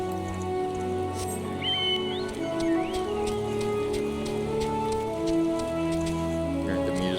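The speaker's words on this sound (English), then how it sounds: "it started raining already" Rain patters in Final Fantasy XIV as a constant soft hiss beneath prominent game music, with occasional faint clicks and chirps mixed in.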